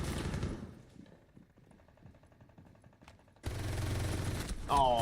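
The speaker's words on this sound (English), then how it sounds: "Why is he shooting?" Rapid bursts of gunfire from a video game crackle in quick fusillades, moderately loud, before a louder stretch of game noise takes over near the end.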